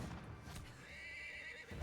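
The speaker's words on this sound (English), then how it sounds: "Now this is horse riding." A horse in Assassin's Creed whinnies during riding, a short, fairly faint neigh over soft hoofbeats and ambient game sound.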